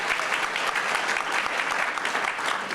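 Loud, close crowd applause at an evening event honoring actor LeVar Burton, a thick continuous burst of clapping lasting the whole moment.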